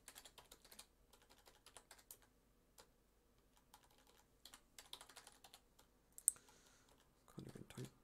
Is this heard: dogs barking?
no